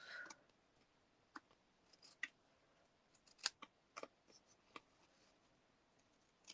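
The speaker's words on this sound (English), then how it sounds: "I need to cut that little end off there." Scissors snipping paper while making greeting cards, a scatter of faint, sharp single cuts and clicks at irregular intervals against a very quiet background.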